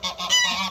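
Muscovy ducks, the domestic water duck, give a run of harsh, nasal honking calls in close succession, loud and near with no talk over them.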